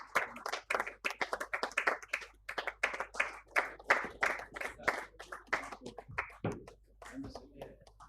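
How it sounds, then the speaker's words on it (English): An awards ceremony audience gives a round of applause, a dense patter of many hands clapping that rises and then thins out toward the end, with a few voices mixed in. "Can we have a huge round of applause for late Mr. Raj?"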